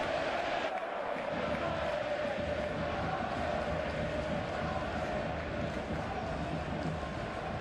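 Football stadium crowd at a Leganés versus Real Madrid match, a dense continuous roar of fans after a goal, steady and loud throughout.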